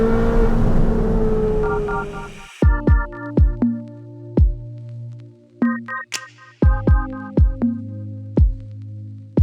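A straight-piped Ferrari 458 fires off a series of sharp, loud exhaust revs, each a quick blip with a crackling pop, in irregular bursts after an earlier sustained engine roar that cuts off.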